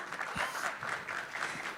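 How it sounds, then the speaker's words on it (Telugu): Applause for a child artist during a lighthearted Telugu interview, a steady patter of hand claps from a small group of people lasting a couple of seconds, close and moderately loud. "అది చప్పట్లు ఫర్ ఊహా."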